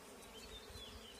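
Honeybees humming around an opened hive with brood frames during an inspection, a faint, steady, close swarm buzz with no voices.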